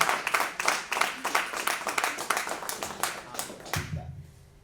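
An audience claps steadily at a book event honoring Raúl Grigera, a dense patter of many hands that holds for about four seconds and then drops off into a quiet room tone.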